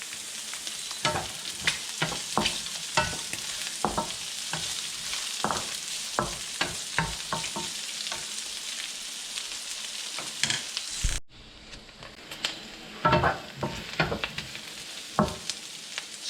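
Garlic and onion sautéing together in a hot pan for a Filipino ginisang labong, with a steady loud sizzle broken by repeated sharp scraping stirs, then quieter after a pause as the frying continues.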